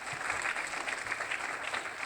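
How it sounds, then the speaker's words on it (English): Audience at a university mass communications alumni panel event giving a round of applause for the panelists, continuous clapping throughout with no talking. "Can we have a round of applause for our panelists?"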